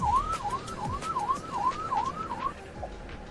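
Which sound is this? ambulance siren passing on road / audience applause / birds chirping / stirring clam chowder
ambulance siren passing on road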